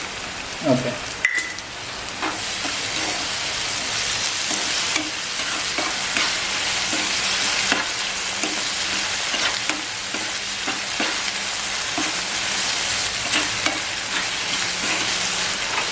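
Continuous crackling sizzle of tomatoes frying in a tawa masala for prawn fry, with a utensil clatter near the start and light stirring scrapes throughout.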